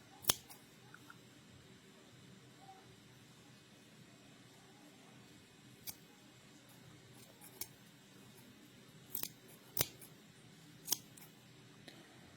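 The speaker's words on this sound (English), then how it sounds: "cut all the really long edges that you don't need" Scissors snipping through yarn while trimming a pom pom, sharp isolated clicks spaced irregularly a second or more apart, close up and otherwise quiet.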